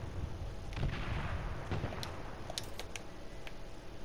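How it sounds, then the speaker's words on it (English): Several sharp video game gunshot cracks pop out irregularly over a dull, steady background rumble, with no voices. "Maybe while the gunfire's going on."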